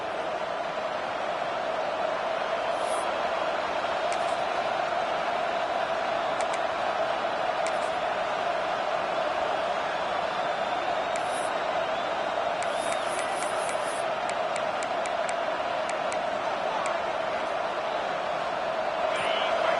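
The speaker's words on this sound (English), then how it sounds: "Listen to this crowd just shaking the girders of this place, trying to help their defense" A packed football stadium crowd roars in a constant, dense wall of noise to help the home defense, with scattered sharp whistles and shouts rising above the steady din.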